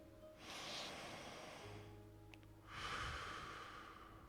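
Two slow, deep breaths drawn in close to the microphone, each a soft airy rush lasting about a second or more, with a quiet pause between them.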